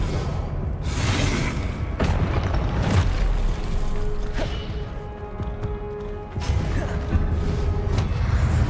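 A spell is cast in the wizarding video game Hogwarts Legacy, a dense burst of magical whooshes, booms and crashes from close by, layered over game effects with several sharp hits spread through it.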